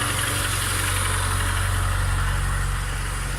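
A VAZ 2114 car engine idles steadily right after a cold test start following a full engine rebuild. The hum is close, continuous and vibrating, with no voices.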